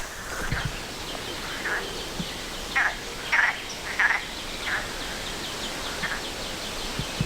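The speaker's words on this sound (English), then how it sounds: "I think there must be frogs calling." Frogs croaking near a river along the Camino Francés between Frómista and Carrión de los Condes, several short raspy calls in a loose cluster over a steady outdoor background, moderately distant.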